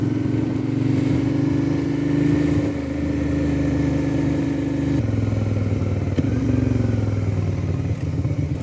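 A Suzuki DL650 V-Strom motorcycle rides along a road toward Eikeskog, its engine holding a loud, steady drone close up with slight shifts in pitch and no talk over it.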